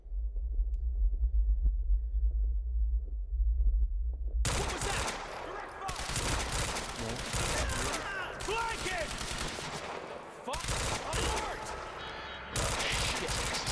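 Rapid gunfire bursts in the video game Quantum Break, dense crackling volleys with heavy low thumps, loud and close and lasting most of the stretch after a quieter rumbling opening.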